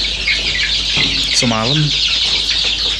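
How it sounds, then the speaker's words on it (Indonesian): Free-range village hens in a coop cluck and murmur close by, one giving a short rising call, while a voice speaks briefly over the steady barnyard noise. "Ini dia ayam-ayam yang dari kandang yang lama."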